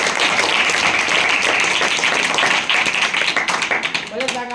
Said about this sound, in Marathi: टाळ्या कोण वाजी.